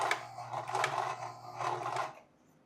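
A sewing machine stitches a cap near the bill, its motor whirring in two pulsing bursts with a steady hum underneath before stopping abruptly, fairly quiet and close.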